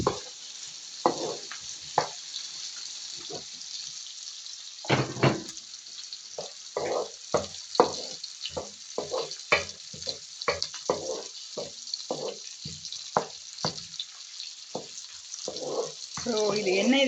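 Garlic and onions sizzle in a pan for a country-style anchovy gravy. A steady frying hiss runs underneath as someone talks throughout.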